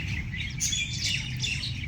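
Birds chirp and tweet in the trees of Fatima Jinnah Park in Rawalpindi: quick, high, bright calls overlapping steadily over a low background hum, fairly close and clear with no talking.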